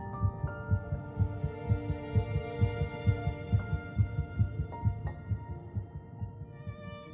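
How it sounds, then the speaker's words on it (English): An embryo's heartbeat at about three weeks pulses in a fast, steady rhythm of soft thumps over a constant electronic hum. "heartbeat can be detected"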